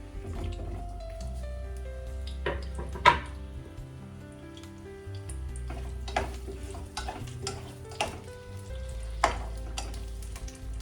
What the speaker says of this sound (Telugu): నేను ఇలా కట్ చేసుకున్న వాటిని నేను ఫస్ట్ నూనెలో వేసుకొని వేపుకుంటున్నాను